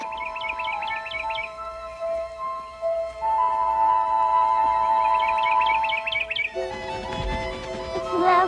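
A small bird chirps in two quick bursts of bright, trilling notes, one early and one in the middle, over sustained tonal music in a fairy-tale forest scene.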